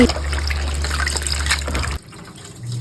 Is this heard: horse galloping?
no